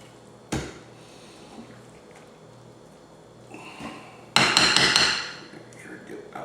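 A whisk works butter into a bread pudding custard mixture in a bowl, giving a sharp knock early on and then a louder burst of clinking and scraping against the bowl that fades out, with no talk.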